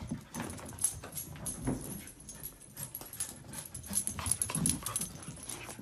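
A corgi husky mix puppy, heard indoors with soft whimpers, panting and small yips scattered across several seconds, fairly quiet and close, along with light shuffling and clicking of paws.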